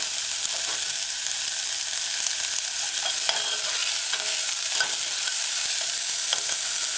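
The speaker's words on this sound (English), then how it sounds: "Add your chopped scallion, stir it in a few times," Chopped scallions sautéing in oil for a vegan broccoli coconut stew, a bright continuous sizzle close up with faint ticks of stirring scattered through, no voices.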